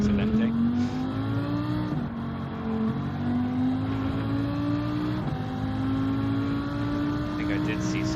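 A Lamborghini race car engine in Gran Turismo 7, revving hard and climbing steadily through gears with brief dips at each shift, loud and close, with voices talking over the drone.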